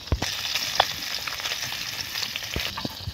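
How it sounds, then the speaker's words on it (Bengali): Tilapia fish sizzling and frying in hot oil in a home kitchen, a steady crackling hiss with scattered sharp pops and spatters throughout. "তারপরে মাছগুলো এবার দিয়ে নিলাম"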